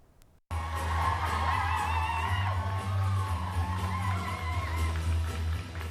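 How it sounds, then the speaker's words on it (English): An audience at a fashion show runway in the Galt Museum, Lethbridge, fills the room with steady clapping and whoops over live DJ music with a deep bass pulse, continuing after a brief quiet start. "The Galt Museum was filled with applause as models strutted down the runway"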